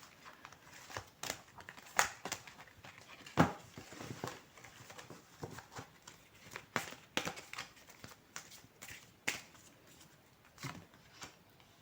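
A deck of oracle cards is shuffled by hand, producing irregular papery flicks, slaps and rustles at close range with quiet gaps between bursts and no talking.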